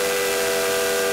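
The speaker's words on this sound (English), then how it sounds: "He blew his three-chime steam whistle as loudly and as boomingly as he could." Cartoon steam engine in Thomas & Friends blowing a three-chime steam whistle, a loud sustained chord-like hoot held steadily throughout.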